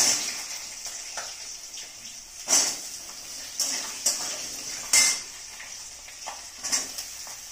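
Sliced vegetables for a mushroom curry clatter into a cooking pan one after another, with several sharp, close metallic clinks and knocks of a utensil against the pan over a steady background hiss.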